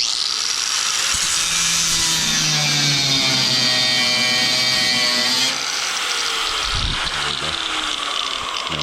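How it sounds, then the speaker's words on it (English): Power tool cutting a slot into a screw head on the grill shroud of a 1964 Chevrolet Impala, a steady high-pitched grinding whine that holds for about five seconds, then drops in pitch and rattles as the cut finishes. "Now I cut a slot in it."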